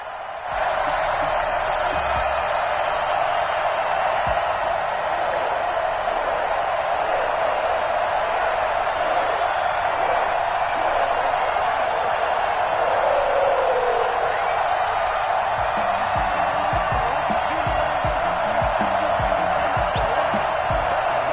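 Broad, steady roar of a stadium crowd before a Cleveland Browns versus Cincinnati Bengals NFL game, a continuous loud wash of cheering voices and scattered whoops holding at one level throughout.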